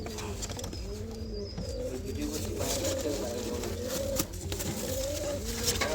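Several domestic pigeons coo continuously at close range, their low, throaty calls overlapping in a steady rolling chorus with faint outdoor noise behind.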